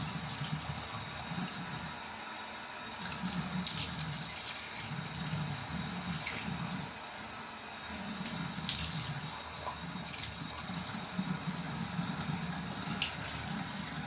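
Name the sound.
rinsing foamed face cleanser off with running water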